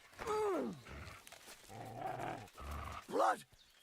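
A dog in a video game growls and barks in harsh, rough bursts, heard alongside someone speaking and surrounded by game noise.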